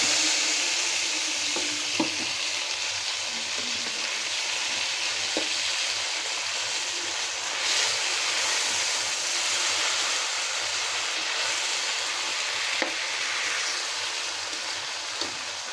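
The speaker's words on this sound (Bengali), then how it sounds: "আমাদের যে মাছটা ভাজা হইতে থাক" Bata fish fries in hot oil with a steady, dense sizzle throughout, broken by a few faint clicks and stirs.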